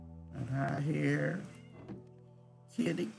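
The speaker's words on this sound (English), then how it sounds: "kitty cat." A cat lets out a long, drawn-out meow, followed by a brief shorter call and then another meow starting at the end, heard close and clear.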